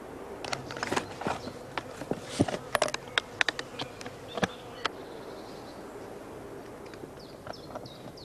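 Honey bees fly around mating nuclei at an apiary, and their buzz holds steady under brief passes, crackles and taps as insects pass close by.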